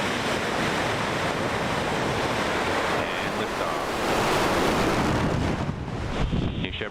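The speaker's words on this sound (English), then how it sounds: "There you have it, a spectacular launch of New Shepard, live from West Texas." A New Shepard rocket launch in West Texas roars as a broad, dense rumble mixed with wind buffeting, sustained and powerful throughout and swelling slightly midway.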